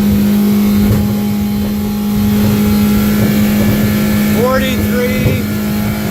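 A Hewescraft 180 boat's outboard motor revs steadily on open water, a loud sustained drone with a strong constant hum throughout, while a person speaks briefly near the end.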